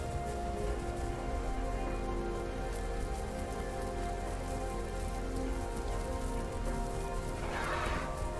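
Steady rainfall in the dinosaur survival game Path of Titans, a dense continuous patter on the ground with a brief swell of louder splashing near the end.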